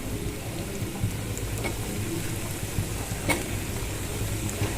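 Leftover spices and masala for stuffed brinjal sizzle and fry in hot oil, a steady close crackle with occasional small pops and no voices.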